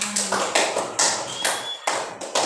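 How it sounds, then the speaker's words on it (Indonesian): Students in a primary school classroom clap in a short burst of irregular, close hand claps, bright and percussive over the room. "Tepuk tangan."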